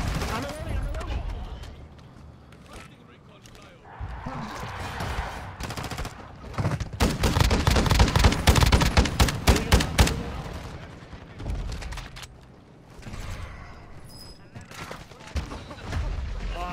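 Gunfire from the Warzone Zombies Royale video game rattles in bursts and sustained automatic volleys, with loud booming shots clustering in the middle, as players shout and talk over the action.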